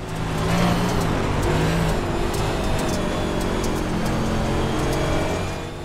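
A NASCAR race car in a video game roars with steady, loud engine drone while racing on the Bristol dirt track, the tone holding high and continuous with slight shifts in pitch throughout.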